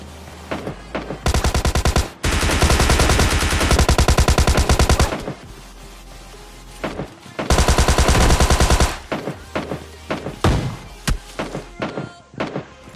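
Automatic rifle fire from an AKM in the PUBG video game: loud sustained bursts of rapid shots, with short single cracks and thumps scattered between them.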